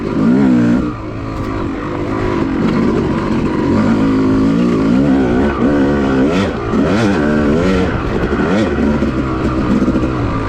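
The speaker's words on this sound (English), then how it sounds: "Oh, this bike is so much fun, y'all. 2-stroke." A Yamaha YZ250 two-stroke dirt bike tears along whooped-out off-road trails, its loud, close engine revving up and down in quick repeated surges as the rider works the throttle over the bumps.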